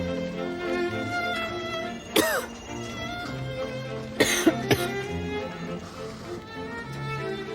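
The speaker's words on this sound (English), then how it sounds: "With a cough." Several sharp coughs break through a GP's consultation, one then a quick pair, among ongoing voices and background tones.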